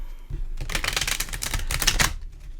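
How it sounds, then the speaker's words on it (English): Tarot cards being shuffled by hand, a rapid crisp riffling flutter of stiff cards lasting about two seconds, close and fairly quiet, with no speech over it. "And then we'll do one last shuffle."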